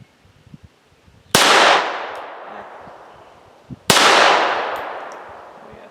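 Two sharp .22 pistol shots ring out outdoors a few seconds apart, each a loud crack fired at a clay target about 10 yards away, followed by a long decaying echo.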